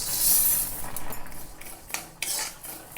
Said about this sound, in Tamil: இப்போ நல்லா வறுத்துக்கிறேன் இந்த இது.